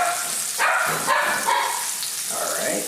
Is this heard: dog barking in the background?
yes